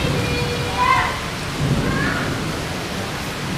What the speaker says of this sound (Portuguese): Tá chovendo pra calaca.